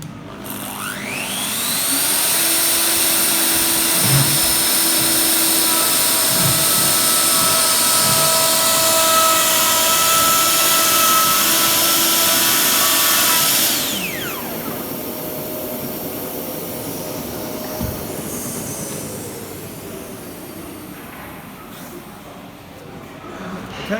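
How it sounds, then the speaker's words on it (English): A router fitted with a brand new blade cuts a kitchen worktop, a loud close high-pitched whine with a rising spin-up, then a steady cutting roar that drops away as the motor winds down. "got a brand new blade also in the router as well"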